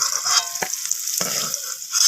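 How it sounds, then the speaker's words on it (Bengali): Potatoes frying in hot oil in a pan, a continuous close sizzle broken by a couple of scraping stirs of a spatula, no voices. "তো আলুগুলো লাল লাল করে ভাজা হয়ে গেছে। এখন আলুগুলোকে তুলে নেব।"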